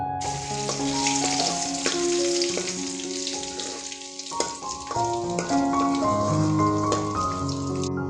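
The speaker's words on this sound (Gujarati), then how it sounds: "આપણે લસણ નાખી દેશું" Garlic frying in hot oil for paneer tufani, a loud dense sizzle and crackle, steady and close, with no one talking.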